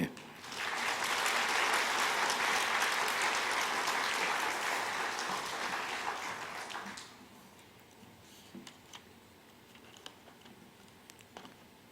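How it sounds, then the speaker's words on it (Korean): A church congregation at a Sunday service applauds loudly as the pastor comes out, the clapping swelling for about six seconds before fading into scattered claps and quiet room noise. "우리 목사님 나오실 때 환영하는 큰 박수로 환영하죠"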